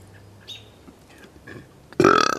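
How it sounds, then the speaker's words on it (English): A single loud, throaty burp erupts near the end, following a few faint rustles and small handling sounds in an otherwise quiet outdoor setting. "Burp for effect."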